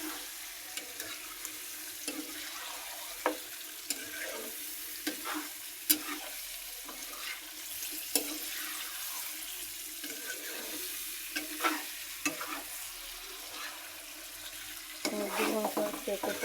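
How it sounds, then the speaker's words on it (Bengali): Chicken pieces sizzle in a hot pan for a curry while being stirred, giving a steady fry with repeated sharp scrapes and knocks of the spoon against the pan, close and alone. "এখন মাংসগুলো ঢেলে দিলাম। মাংসগুলো দেওয়ার পরে ভালো করে কষিয়ে নেব।"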